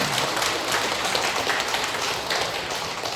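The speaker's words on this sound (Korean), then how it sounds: "박수 한번 쳐주시고." A congregation at a free Catholic healing retreat in a church basement hall gives a dense, even round of applause, a continuous wash of many hands clapping at moderate loudness.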